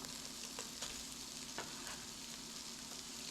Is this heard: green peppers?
yes